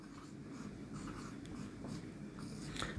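Marker or chalk writing a word on a board, a series of short faint scratchy strokes in quick succession, close and quiet with no talking.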